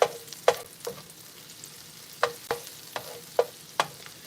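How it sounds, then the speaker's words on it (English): Garlic in butter stirred around a pan, a spoon scraping and clicking in sharp separate strokes, about ten over a few seconds, over a low, quiet sizzle. "Just gonna really make sure that garlic gets into that butter."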